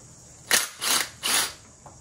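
A ratchet clicks in three short bursts and a faint fourth while undoing nuts on the power steering system of a Mitsubishi Delica 6G75 3.8 engine, close and crisp.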